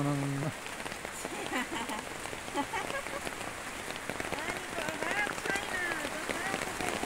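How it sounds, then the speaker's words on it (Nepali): Steady rain pattering on a surface, a dense continuous hiss close by, with a brief low hum at the start and faint voices in the background. "त्यही पानी परेको छ चुर्लुम्मै वर्षाले भिजाएको अवस्था छ"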